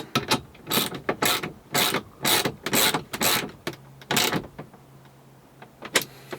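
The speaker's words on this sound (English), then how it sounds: "we're going to go ahead and tighten down our 1/4 nylon locking nut here" A quarter-inch nylon locking nut is tightened with a ratchet on a navigation mount inside a first-generation Toyota Sequoia: a rapid, close series of loud ratcheting clicks in bursts, then a pause and one final click.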